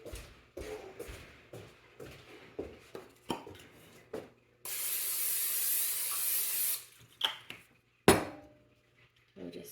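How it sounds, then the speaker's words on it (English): A steady hiss of aerosol cooking spray lasting about two seconds, set between light clinks and taps of kitchen handling. "we're gonna spray these 2 pieces with cooking spray"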